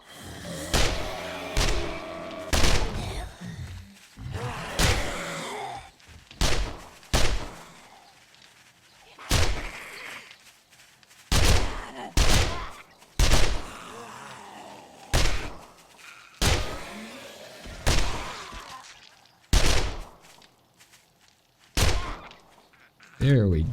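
Gunfire into a group of zombies in the survival game 7 Days to Die, a long run of loud, sharp shots spaced a second or two apart, each followed by a short tail, with talking in between.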